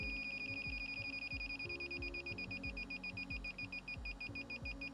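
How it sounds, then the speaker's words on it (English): An INFICON AST100 refrigerant leak detector sounds its alarm, a rapid run of sharp, evenly spaced electronic beeps repeating close and steady throughout, with a faint underlying hum. "it's normal for the alarm to stop after a few seconds"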